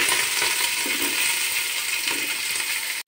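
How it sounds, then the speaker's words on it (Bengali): Chopped onions dropped into hot oil in a frying pan while cooking khichuri, giving a steady close sizzle that holds evenly for about three seconds before cutting off. "এবার আমি কুচানো পেঁয়াজগুলো দিয়ে দিচ্ছি।"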